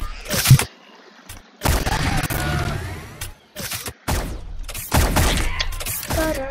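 Shotgun fire in the online egg-shooter game Shell Shockers: a handful of loud, abrupt blasts arrive in irregular bursts, separated by brief gaps.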